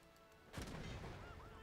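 A field cannon firing in a strategy video game, a single sharp boom with a short rumbling tail, fairly quiet over faint background game sound.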